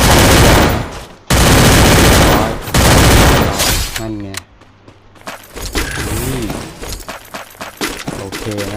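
Loud bursts of rapid gunfire in the game Free Fire, two long volleys separated by a brief gap, followed by quieter game effects and clatter.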